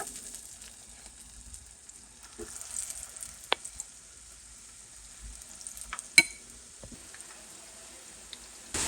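Dahi bhalla lentil dumplings deep-frying in hot oil, a faint steady sizzle with soft bubbling and a few sharp pops and clicks, no talking.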